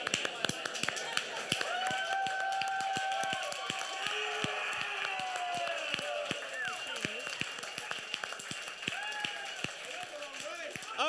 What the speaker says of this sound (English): please give a big round of applause to Chobra and Machine.